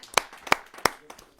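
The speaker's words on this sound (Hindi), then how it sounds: "मैं चाहूंगा उनका जोरदार तालियों से हम स्वागत करें।" A few sharp, separate hand claps from the audience at a Hindi kavi sammelan poetry gathering greet a poet. Three strong claps and a softer fourth come at roughly even intervals, close and dry, with no talking.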